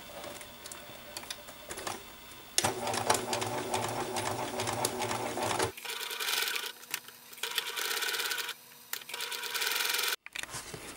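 A sewing machine stitches a seam on a mini witch hat in bursts of rapid mechanical whirring, stopping and restarting several times with short pauses and a few clicks between runs, close and clear.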